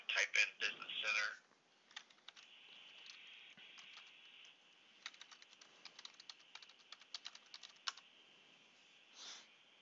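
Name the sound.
typing on a computer keyboard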